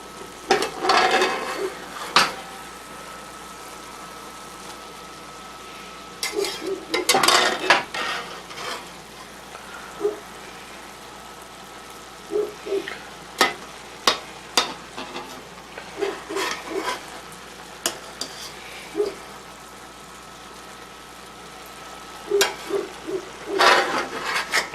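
Chorizo and onions frying in a pan and stirred at intervals, with clusters of scraping and utensil clatter over a low sizzle across a long stretch, close by and mostly without talk.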